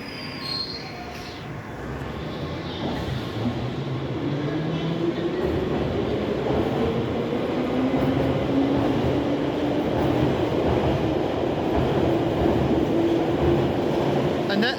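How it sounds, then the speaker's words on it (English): A London Underground train departing a busy station, a loud continuous rumble that builds as it pulls away, with a rising motor whine and faint wheel squeal. "Here goes the train I just jumped on."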